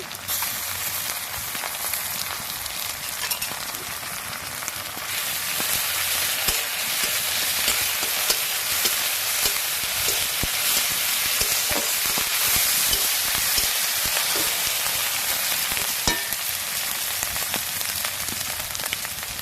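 Ginger and garlic paste frying in a pan for paneer butter masala, a loud continuous sizzle that swells after a few seconds and crackles steadily throughout.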